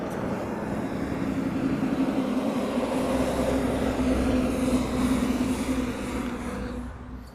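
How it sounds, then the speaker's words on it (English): A United Boeing 737 heads out with a broad, steady jet roar that holds at moderate loudness for several seconds and then fades slightly, with no talk. "So we have a United heading out this way. It's a 737."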